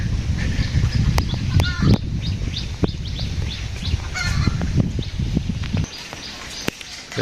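Chickens on a poultry farm of about two thousand birds clucking and honking, several close by, with scattered sharp knocks and shuffling footsteps around them.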